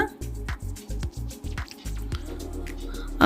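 Hands knead chapati-like pizza dough sprinkled with water, producing a run of wet, rhythmic squishes and slaps, close and fairly loud, ending in a sharper sound.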